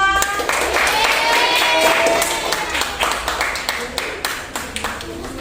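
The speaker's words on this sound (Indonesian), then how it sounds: "Tepuk tangan untuk Reva dan Najwa." Classroom audience applauding during a school coaching session, a dense burst of many hands clapping that thins into scattered, uneven claps, with a voice talking over the start.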